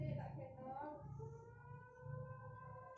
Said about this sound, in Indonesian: Sirine terakhir.